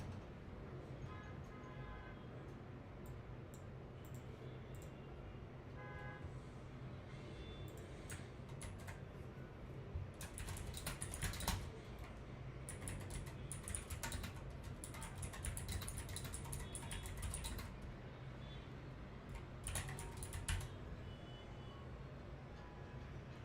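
Someone types on a computer keyboard on a MacOS machine while live coding, with bursts of quiet clicking keystrokes coming in clusters over a faint steady hum, soft and close.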